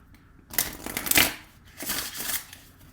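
A deck of tarot or chakra cards shuffled by hand in two soft, close riffling bursts, separated by a brief pause, in a quiet room.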